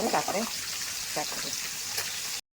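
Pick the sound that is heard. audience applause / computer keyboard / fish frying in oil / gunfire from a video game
fish frying in oil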